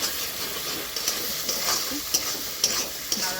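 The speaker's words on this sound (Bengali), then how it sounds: "আলুগুলো কষিয়ে নেব ভালো করে, কষে নেব।" Potatoes stir-fried in hot oil with masala, a steady bright sizzle with repeated light scrapes of a spatula at a regular rhythm, close and fairly quiet.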